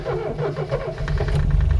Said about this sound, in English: I'm going to take you through on a fire up now.